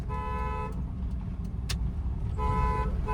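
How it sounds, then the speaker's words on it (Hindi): Car horn honking while driving a car through narrow streets, a sustained tonal honk at the start and another near the end, over the steady rumble of the engine and road noise. "हॉर्न दीजिए"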